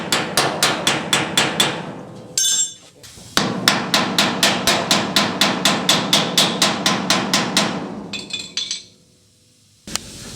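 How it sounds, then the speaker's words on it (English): Hammer blows on sheet metal during a car wheel well repair, a fast even run of sharp metallic strikes in two bursts with short pauses and light clinks between. "Then I'll go back with my other hammer and kind of finish it out a little bit better."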